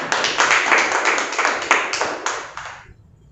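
A studio audience at a Hindi poetry recitation claps in a close, moderately loud burst of overlapping hand claps that gradually thins and fades out after about three seconds.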